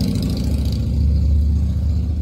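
A 1956 Ferguson TO35 tractor engine idles steadily with a deep, continuous low rumble close by, its carburetor slightly out of adjustment, with no talk over it.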